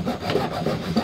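Hand saw cutting through wood during a tiny house bathroom remodel, quick rasping back-and-forth strokes, close and steady with no voices.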